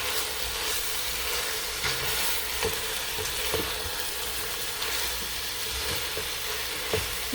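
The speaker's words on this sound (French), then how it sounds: "ajouter le reste des assaisonnements. Donc c'est-à-dire la carotte, le poivron, le poireau et puis le jalapeno. Et on va mélanger." Carrot, bell pepper, leek and jalapeño sizzle in a pot of chicken soup base as the vegetables are stirred, giving a steady frying hiss broken by occasional scraping knocks of the spoon.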